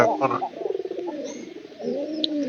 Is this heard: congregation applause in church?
no